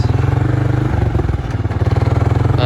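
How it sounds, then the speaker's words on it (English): A four-wheeler ATV engine runs close and loud while driving between farm fields, a rhythmic throbbing putter with a slight dip in pitch midway before steadying again. "Should have grabbed the quieter four-wheeler for doing this."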